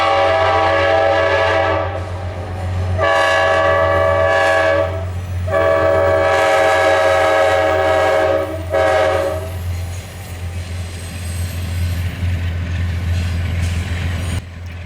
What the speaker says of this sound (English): Amtrak's Pennsylvanian rolled on by, being led by Amtrak 512, while it was still in its pinstripe scheme